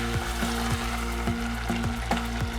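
Vegan black bean soup bubbles noisily in a pot on the stove, with dense sizzling and popping and a few soft scrapes of stirring, fairly quiet and close, with no talk.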